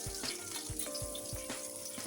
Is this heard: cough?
no